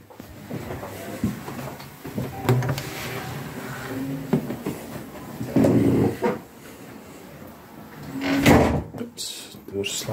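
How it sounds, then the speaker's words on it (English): A bathroom door in a holiday guesthouse on the Isle of Skye, Scotland, swings shut on its hinge with a couple of moderate thuds and knocks amid room noise, while a person talks nearby. "Oops, door slams a little bit"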